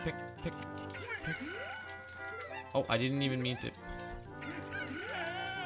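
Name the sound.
chickens clucking in The Legend of Zelda video game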